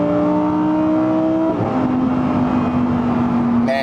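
A Lamborghini V10 revs hard and loud, its engine note holding a steady pitch, dropping as the gear changes, then settling into a sustained high drone, with a fresh rise at the very end.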